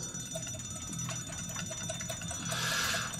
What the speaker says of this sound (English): Oh, there's another alarm.